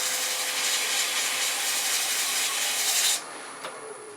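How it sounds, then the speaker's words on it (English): Steady, close scratchy rasp of sandpaper rubbing a wooden egg being turned, continuous for about three seconds before stopping abruptly, leaving a faint hiss. "just take you a bit of sandpaper"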